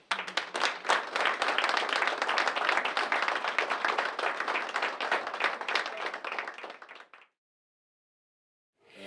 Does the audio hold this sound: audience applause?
yes